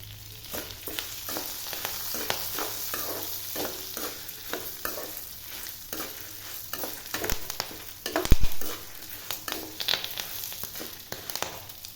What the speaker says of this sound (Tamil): நல்லா இதை பொன்னரமாக இப்போ வறுக்கணும் கருவேப்பில்லை கொஞ்சம் சேர்த்துக்கிறேன்